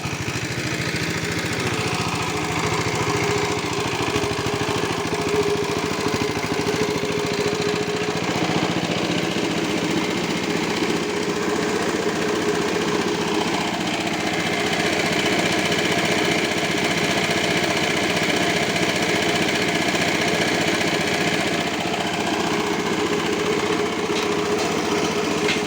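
A Yanan 7.5 kW single-phase diesel generator runs steadily and loudly under load for a welding test, its rumbling drone continuous throughout with slight swells, no talking heard.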